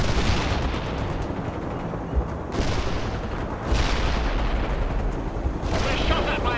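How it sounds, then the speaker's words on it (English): Heavy booming tank shell fire in the video game World in Conflict, several loud blasts spaced a second or so apart over a rumbling battle bed with radio-style voices speaking. "We're shot at by a tank!"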